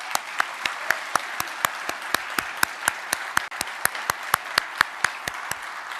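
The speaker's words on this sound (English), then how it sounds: "Let's give them a round of applause." Applause at a military annual award ceremony: one close, sharp clapper beats a steady fast rhythm over a broad, even wash of crowd clapping that runs without a break.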